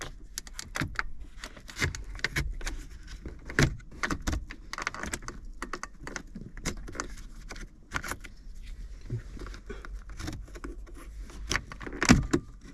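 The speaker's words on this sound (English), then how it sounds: "The center console is now popped out." A trim tool pries out the center console trim of a Jaguar F-Type, giving close, sharp plastic clicks, snaps and scrapes in an irregular series.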